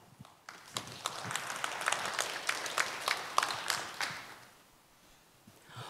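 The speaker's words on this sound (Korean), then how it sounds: "올해도 이 자리에 함께해 주신 여러분께 큰 박수를 보내며" An audience at a poetry recital event hosted by the Sangju recitation association gives scattered applause, a few sharp claps building into a moderate round that thins and fades away, somewhat distant in the hall.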